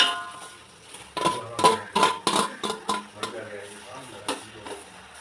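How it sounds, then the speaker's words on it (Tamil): Three chopped tomatoes go into a pot of browning mutton biryani base, giving a cluster of close clattering knocks and spoon scrapes against metal with a faint sizzle underneath. "இந்த தக்காளி போட்டுக்கலாம்."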